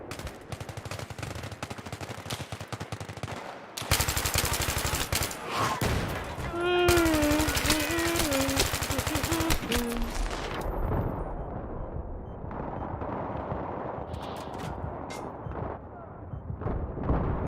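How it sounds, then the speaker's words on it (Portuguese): Rapid gunfire from a Battlefield shooting video game, with dense bursts of shots and booming blasts that run almost continuously, loudest in the middle, while a voice briefly speaks underneath. "não sei onde é que veio esse tiro"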